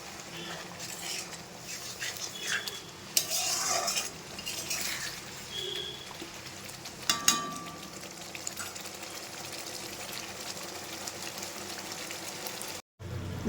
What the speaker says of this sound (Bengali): মশলাতে একটু জলটা দিয়ে হালকা করে মশলাটা আর একটু কষিয়ে নেবো